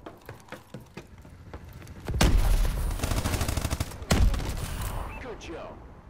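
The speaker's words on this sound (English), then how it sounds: "I'm shooting him right now." Video game gunfire in a Search and Destroy match, with a few scattered shots followed by two loud bursts of rapid automatic fire, layered with game effects and a player talking.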